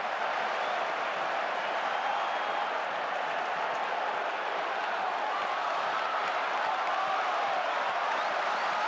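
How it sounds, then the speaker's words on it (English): A football stadium crowd at Mestalla applauds Dani Parejo as he steps up for a corner, a broad, even wash of distant clapping and crowd noise that holds steadily throughout. "Plenty of applause for Dani Parejo."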